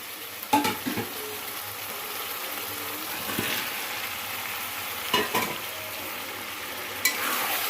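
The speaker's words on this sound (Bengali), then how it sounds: "এবার আলুটা দিয়ে দিলাম। এবার নাড়াচাড়া করে" Fried potatoes being stirred into a browned chicken curry in a pan, a soft sizzle broken by a few clanking scrapes of the spatula against the metal, with no talk.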